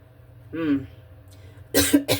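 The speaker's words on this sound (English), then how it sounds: "I started coughing right away" A person coughs in two short bursts, a single rough cough followed moments later by a harsher double cough, close to the microphone with a brief vocal sound between them.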